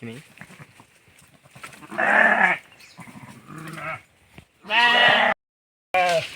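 A grazing flock of sheep out in the rain gives several loud, close bleats, long wavering cries separated by pauses, with someone talking between them.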